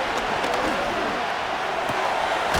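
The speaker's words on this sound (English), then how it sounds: "The crowd cranking it up another notch before 3rd and long" Crowd noise from an American football video game simulation of the Chiefs vs. Commanders, a steady roaring stadium din building before a third-and-long snap, loud and continuous with no clear talk on top.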